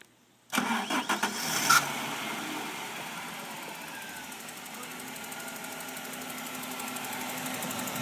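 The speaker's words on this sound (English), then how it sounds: "Blue man's going to start her up." An aircraft engine starts up abruptly after a moment of silence, sputtering and catching over the first second, then settling into a loud, steady roar that holds to the end.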